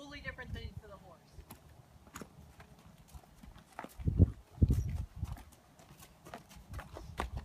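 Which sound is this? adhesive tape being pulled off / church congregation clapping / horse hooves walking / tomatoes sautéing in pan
horse hooves walking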